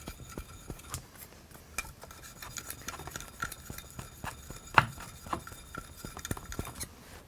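A gooseneck scraper has its faces polished with scattered light metallic clinks and scraping strokes, close and fairly quiet, with no voices.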